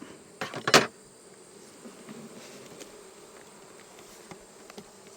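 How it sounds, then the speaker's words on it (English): Honey bees buzz in a busy swarm from an exposed nest, a loud burst of close buzzing near the start settling into a steady, lower hum. "We're going to hear them tick up a little bit as soon as I pick this one up"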